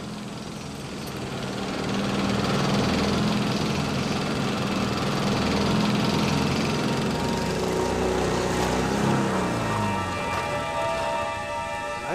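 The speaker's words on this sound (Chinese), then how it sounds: "人给我们送摩托车来了。" A motorcycle engine runs steadily nearby as the bike is delivered, a loud continuous drone with a low rumble and shifting pitch throughout, no talking over it.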